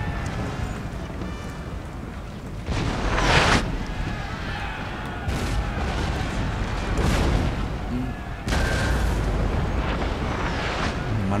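Musket volleys fire in a Napoleon: Total War battle in Egypt, heavy booming bursts recurring every couple of seconds over a constant rumbling battlefield din, with a voice talking now and then.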